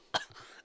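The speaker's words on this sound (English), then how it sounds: "I think I got a kennel cough." A single short cough, close and fairly loud, followed by a brief trailing breathy sound, with no talk over it.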